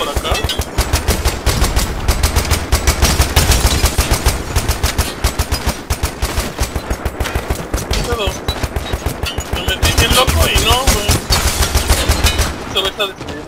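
Rapid bursts of automatic gunfire from the shooter video game Ballistic, loud and nearly continuous throughout, with a voice speaking briefly among the shots.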